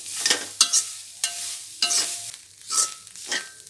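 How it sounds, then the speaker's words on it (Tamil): Grated coconut roasting in a pan over a medium flame, stirred in bursts: close, loud scraping strokes with a dry rustling sizzle, separated by short quieter gaps. "பாதி அனல் வச்சுட்டு நம்ம அப்படியே வறுத்து எடுத்துக்கலாம்"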